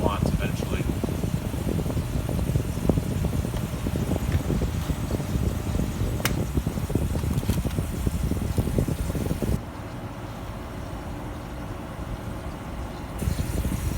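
A 1973/1998 Fedders Weather Wheel air conditioner runs on high cool, giving a steady close whoosh of fan air over a low hum that drops slightly in level near the end.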